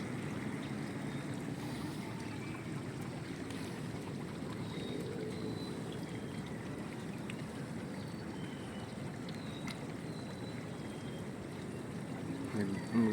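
A swollen river rushes past in heavy rain in Nangka, Marikina City, a continuous broad roar of flowing water that stays steady and fairly close throughout, with rain and wind noise mixed in.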